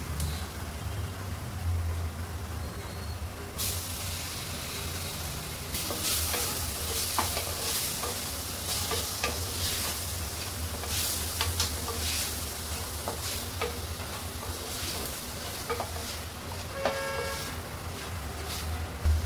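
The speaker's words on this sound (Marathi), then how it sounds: "कच्चा मसाला आहे म्हणून चांगला भाजून घेऊया याच्यामध्ये" Raw spice masala roasts and is stirred in a pan for South Indian tomato rasam, a continuous dense sizzle with scraping spoon strokes and scattered crackles, close and steady throughout, without speech.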